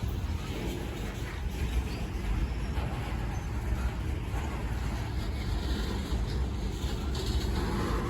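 A slow-moving freight train rumbles steadily, a low continuous roar with faint metallic squeaks and hiss, heard from nearby without pauses.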